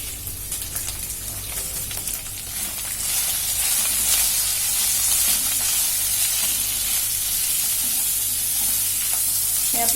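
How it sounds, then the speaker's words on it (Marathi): Onion and capsicum sprinkled with salt fry in a kadai, giving a loud continuous sizzle that grows stronger after a few seconds and holds steady with no voices. "हे आपल्याला जास्ती फ्राय नाही करून घ्यायच्या, थोड्याशा अर्धवट फ्राय करून घ्यायच्या."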